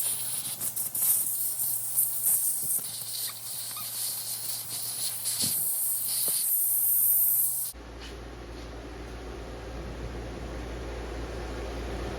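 Compressed air blasts through Mariner/Mercury outboard carburetor parts after soaking in carb cleaner, a loud close hiss with sputtering bursts that stops abruptly, leaving a lower steady background hum.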